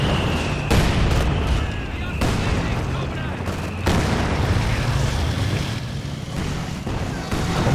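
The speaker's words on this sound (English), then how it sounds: "Decruit the pack though with the mortar fire." Mortar and artillery fire in a Company of Heroes 2 World War II battle, with repeated heavy booms and gunfire over a dense, continuous combat din.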